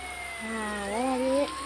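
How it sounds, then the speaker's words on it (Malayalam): An ambulance siren wails on a street, a rising and sweeping electronic tone growing louder as it draws nearer, moderately close over a quiet background. "മറ്റേ സൈറൺ വരുന്നുണ്ട്, ആംബുലൻസിൽ"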